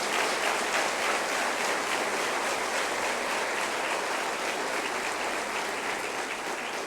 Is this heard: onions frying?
no